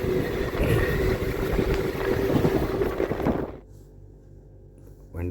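A passenger train rolling at modest speed after pulling out of Solapur, with a steady loud broadband rumble and rush for about three and a half seconds, then an abrupt drop to a quiet low hum.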